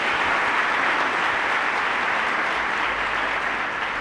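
Dense, steady applause from a large church congregation fills the space evenly and loudly from start to finish, with no voices rising above it.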